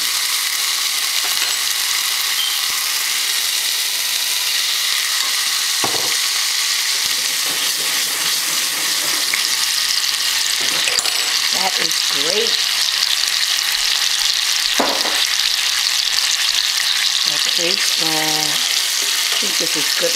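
Loud, continuous sizzle of food frying in a pan for a Dominican breakfast of mangu, eggs, cheese, salami and onion, with occasional scrapes and clinks of stirring over the hiss.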